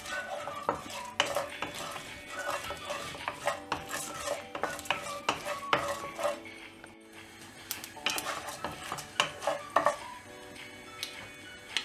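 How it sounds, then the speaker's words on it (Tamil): Dried red chillies frying in oil in a pan while being stirred: repeated scraping and clinking of a spoon against metal over a soft, continuous sizzle, fairly quiet and close. "இப்போ காஞ்ச மிளகாய் ஆட் பண்ணிட்டு இத எண்ணெயில ஃப்ரை பண்ணிக்கலாம்"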